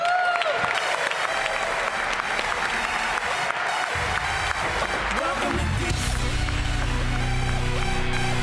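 An arena crowd applauds and cheers to welcome the Washington Wizards at a sports event, loud steady clapping throughout, with deep music or announcement swelling in toward the end.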